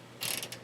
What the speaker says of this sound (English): long arm of the law ratcheting wrench here, and I'm watching the back side of that nut plate